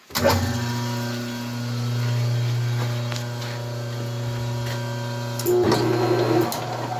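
A 1914 Sidney Tool Co 14-inch pattern lathe runs steadily through its first cut in 20 years, giving a constant motor hum with tonal whine and some scraping toward the end, with no talk.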